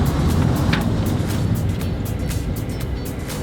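A Mazda 5 MPV pulls hard through first and second gear, its engine a steady, close droning rumble with broadband road and wind noise throughout, no talking over it.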